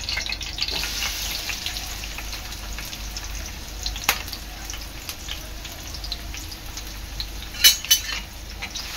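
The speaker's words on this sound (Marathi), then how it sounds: "तेल चांगलं गरम झालेलं आहे, त्यामध्ये टाकणार आहे मी कढीपत्ता, बारीक चिरलेला कांदा" Curry leaves and finely chopped onion crackle and sputter in hot oil with a continuous sizzle. Sharp pops and spatters stand out near the end, along with a few clinks.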